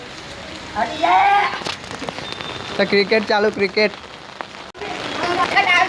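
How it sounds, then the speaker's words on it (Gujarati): Steady rain patters on a surface throughout, with people talking and calling out over the downpour during an outdoor cricket game. "ચાલુ શૂટિંગમાં વરસાદ આવી ગયો છે"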